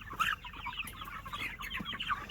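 Morning chickens and chicks cluck and chatter while pecking at feed crumbles, a busy overlapping flock of soft calls at close range with no talk.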